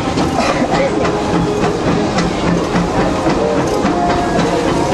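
Disneyland Railroad steam locomotive with its tender rolling along a flat, straight stretch of track, a loud, steady close rumble with rhythmic wheel clatter and hiss from on board.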